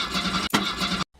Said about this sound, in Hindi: तभी इंजन ने एक अजीब सी आवाज की